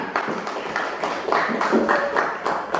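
An audience bursts into applause, a dense, fairly loud patter of many hands clapping unevenly, with a few voices mixed in.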